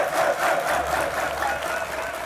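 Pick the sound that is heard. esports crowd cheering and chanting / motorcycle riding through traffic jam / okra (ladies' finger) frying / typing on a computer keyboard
esports crowd cheering and chanting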